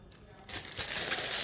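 A quarter-kilo plastic bag crinkles and rustles close up, starting quietly and then becoming a steady, loud crackling handling noise.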